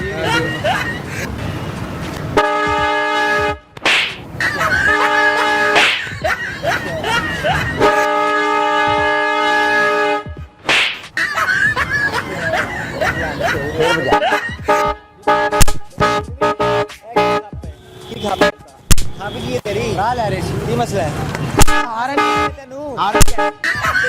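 Loud, sustained train horn blasts, sounded as a prank in Pakistan, repeat as long harmonic honks broken by short pauses, with crowd chatter and voices in between.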